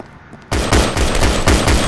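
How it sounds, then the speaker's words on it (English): Shotgun blasts fired in the multiplayer shooter Double Action, starting abruptly after a brief lull and continuing as a loud, rapid barrage of overlapping shots with dense gunfire. "Oh, the shotgun is good."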